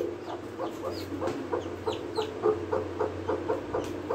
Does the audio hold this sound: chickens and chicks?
yes